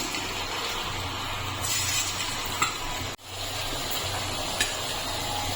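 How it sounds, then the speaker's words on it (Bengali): Lentil fritters (bora) frying in hot oil in a wok, a steady soft sizzle throughout with a brief clink or stir partway and a short break in the middle. "আমি উল্টে পাল্টে লাল লাল করে ভেজে নিয়েছি।"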